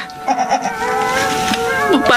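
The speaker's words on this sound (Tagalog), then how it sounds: "Parang may narinig akong kambing." A goat bleats in a horror drama scene, a wavering cry rising over tense background music, with a short vocal sound early on and another bleat near the end.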